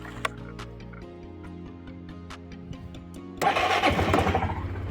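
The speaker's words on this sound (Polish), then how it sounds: "jest zimny, mogę go sobie odpalić, także teraz będzie wiadomo jak to pięknie chodzi" A 2011 Suzuki Burgman 400 scooter starts from cold: a quiet ticking and whirring as the starter turns, then the engine fires and settles into a rougher running idle, close to the microphone.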